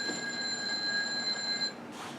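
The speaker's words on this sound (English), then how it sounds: "Sorry, my alarm just went off." An alarm clock beeps steadily in a repeating electronic pattern for about two seconds, then cuts off, leaving quiet room tone.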